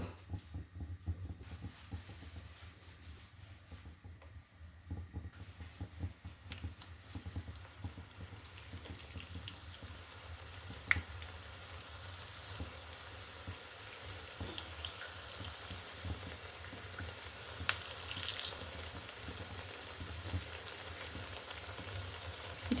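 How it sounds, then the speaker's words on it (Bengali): Meat pitha sizzling in refined oil in a home kitchen pan: a soft, continuous crackle and fizz with scattered small pops, faint and steady throughout, no talking. "তেল দিয়ে দিচ্ছি রিফাইন তেল এখন আমি পিঠেগুলো দিয়ে দিব"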